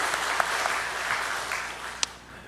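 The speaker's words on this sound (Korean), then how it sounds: "한번 뜨겁게 박수 한번 합시다" A church congregation at a Sunday service applauds the choir and orchestra, a dense, steady clapping from a large room crowd that slowly fades toward the end.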